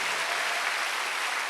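A church congregation at a Wednesday worship service claps in a brief, dense, even wash of applause with no pauses.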